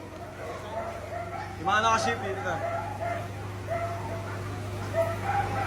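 Dogs give a short burst of barks and yips among other animals near sacks of dog food, with a steady mechanical hum throughout and people talking over the barking.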